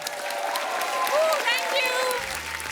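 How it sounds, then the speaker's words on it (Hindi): Studio audience applause on a Hindi comedy talk show, a steady wash of clapping with a voice speaking over it throughout. "जोरदार तालियां हो जाए एक बार।"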